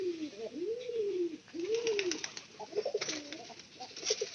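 Pigeons being fed corn coo in repeated soft, rolling calls at close range, with faint rustling and light pecking sounds between the coos.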